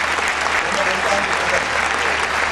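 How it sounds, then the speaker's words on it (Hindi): A church congregation in Dehradun stands and claps during a Christian healing service, a dense, loud, continuous roar of applause throughout. "प्रभु यीशु के लिए एक बार खड़े होकर ताली बजाइए इस मिरेकल के लिए"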